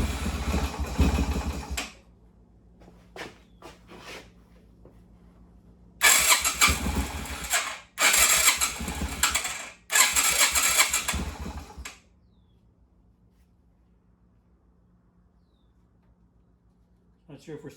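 A Yamaha Virago XV250 V-twin motorcycle engine fires briefly in three loud, close bursts of a few seconds each, with quiet gaps of low humming between them and short clicks before them.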